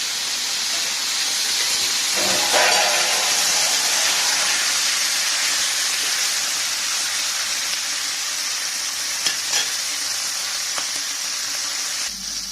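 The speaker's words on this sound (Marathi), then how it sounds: "इकडे आपल्या वरणाला उकळी येत आहे." Mung dal comes to a boil in a pot, producing a steady, close bubbling hiss with a few faint clinks partway through.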